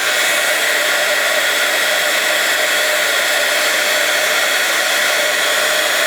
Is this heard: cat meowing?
no